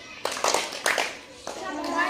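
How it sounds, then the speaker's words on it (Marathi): Schoolchildren in a fourth-grade classroom give a short round of praise clapping, several quick claps in uneven bursts while a voice speaks over them. "यांच्यासाठी शाबासकीची टाळी द्यायची."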